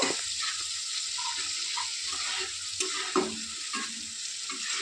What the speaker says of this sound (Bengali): এবার এটা একটু ভালো করে তেলের সাথে ভেজে নেব